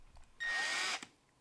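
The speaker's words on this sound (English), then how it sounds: "I finally found this 90-degree drill adapter" A power drill fitted with a 90-degree adapter whirs at high speed for about half a second, loud and close, then stops; quiet room sound before and after.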